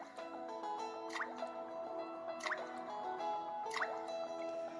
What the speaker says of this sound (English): He picked some pebbles and dropped them into the pot one by one.